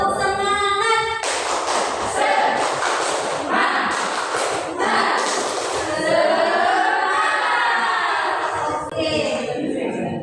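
Children in a classroom do a rhythmic spirit clap, with sharp bursts of claps in a steady pattern mixed with their chanting voices. The sound is close and loud throughout.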